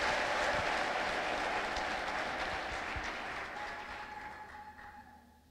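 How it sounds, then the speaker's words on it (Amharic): A church congregation claps and ululates for the Lord, loud clapping that gradually fades out, with a sustained high trill running through it. "እስቲ እንደገና ለጌታ ከፍ ያለ ልልታና ጭብጨባ።"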